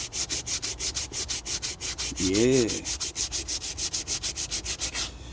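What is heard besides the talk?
sanding a wooden stick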